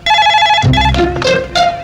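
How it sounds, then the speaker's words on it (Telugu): A telephone rings loudly and close in a Telugu film scene, with a bright electronic ring tone repeating in short bursts and brief low sounds between the rings. "రింగ్ అవుతుందిరా."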